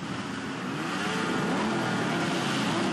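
More than a hundred motorcycles rev their engines together at a bikers' protest on a city square, a dense, continuous roar that stays loud throughout with no break.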